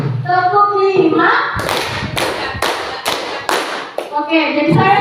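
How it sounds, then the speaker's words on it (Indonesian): Classroom spirit clap by a group, about six or seven sharp, evenly spaced claps in a steady rhythm, loud and close, with a voice talking just before and after. "kita tepuk semangat dulu ya"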